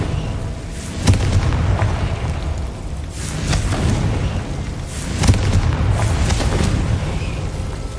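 Confringo fire-spell blasts in Hogwarts Legacy land as loud booming explosions over a dense rumble, with sharp impacts near the start and the middle, each trailing off into crackling fire.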